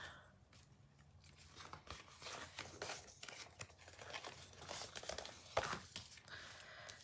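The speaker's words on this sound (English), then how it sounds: "I'm just folding all the score lines" Paper folded along score lines in a papercraft session, with soft crinkling and creasing sounds in a quiet room, close and fairly faint, with a sharper crisp crease near the end.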